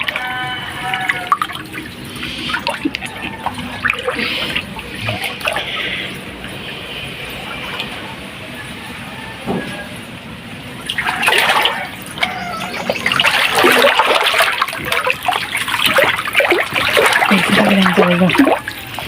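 Water splashing and pouring in bursts, with dripping and trickling between, close by; voices talk intermittently underneath.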